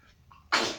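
A single close sneeze from a person during chess commentary, preceded by a faint breath and bursting out loudly before quickly fading.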